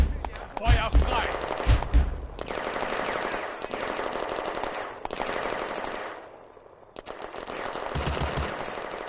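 A WWII video game battle on the Eastern Front at Voskhod Railway Junction, with loud close bursts of machine-gun fire separated by short pauses and a continuous din of combat between them.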